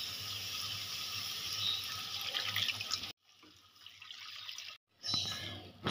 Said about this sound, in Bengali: ওর মধ্যে পরিমাণ মতন জল দিয়ে দিলাম